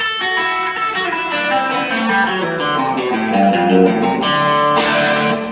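An electric guitar plays a fast descending run, overlapping notes ringing into each other in a shimmering cascade, steady and fairly loud with no voices.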